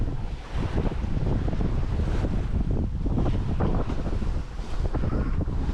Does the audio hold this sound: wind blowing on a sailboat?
yes